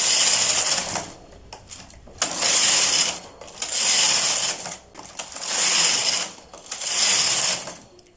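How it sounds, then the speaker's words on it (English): A knitting machine carriage is pushed back and forth across the bed with a punch card patterning the rows, making rhythmic mechanical ratcheting clatter in about four passes separated by brief quieter pauses, close and loud. "So I just have to keep moving my machine, and the punch card does the work."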